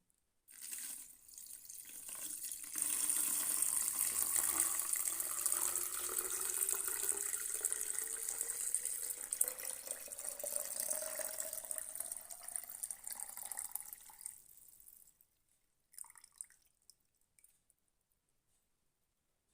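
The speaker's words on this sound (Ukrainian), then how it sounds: "Почекали, поки розсол охолов, тепер заливаємо все в бутилку." Cooled herring brine pours steadily from a pot into a bottle for oil-free marinated herring, a continuous close trickling and gurgling rush lasting about fourteen seconds before stopping, with a few faint drips after; no talking.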